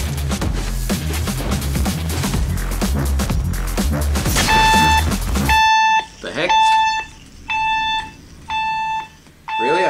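An alarm in a let's-play game session goes off after loud music cuts out, sounding as a stacked multi-tone electronic beep repeated in four or five regular bursts with short gaps, loud and close.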